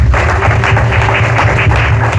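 Congregation at a Kahama church mission service applauding, a dense, steady wash of clapping that fills the space at close range, with a low hum of amplified sound beneath it and no clear speech.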